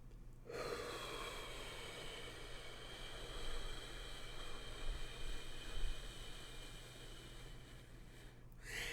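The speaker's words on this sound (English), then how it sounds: "I like to imagine like I'm breathing out of a straw. So it's not like a where it's like big chaotic exhale. It's a very intentional exhale." A slow, deliberate breath pushed out through pursed lips, a long steady airy hiss that carries on for most of the moment, close and fairly soft, with no talk.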